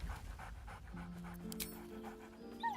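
A dog in a video game pants rapidly and steadily, with a faint whine near the end, at low level and with no talk over it.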